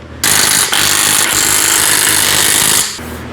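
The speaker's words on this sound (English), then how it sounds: "You want to tighten them after you put all the screws on." A power tool driving screws tight, one loud continuous burst of whirring and grinding lasting about two and a half seconds, close up, with no talking.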